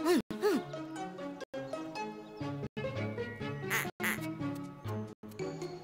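Cartoon duck crossing a road gives a rapid series of nasal, squawky quacks, each bright call separated by brief silent gaps, close and clear with no talking.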